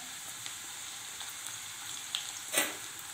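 Finely chopped ginger sizzles with onions in a pan, a faint, steady frying hiss with a few small pops and one louder crackle near the end.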